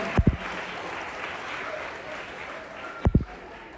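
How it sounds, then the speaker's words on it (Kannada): A crowd gives loud applause to thank a foundation at a Kannada school event on Karnataka's state formation day. A continuous wash of clapping is broken by sharp thumps near the start and the end. "ಒಂದು ಜೋರಾದ ಚಪ್ಪಾಳೆಯಲ್ಲಿ ನಾವು ಅವರಿಗೆ ಧನ್ಯವಾದಗಳನ್ನು."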